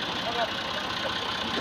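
A tractor engine runs a corn sheller in Punjab, stripping maize kernels. It gives a steady, loud, close drone with a low pulsing throb, and a voice talks over it.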